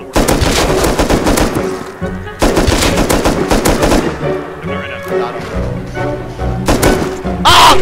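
AK rifle fire in the survival game Rust, as loud, dense bursts of automatic shots that keep crackling almost without pause, with booming impacts and game noise packed in around them.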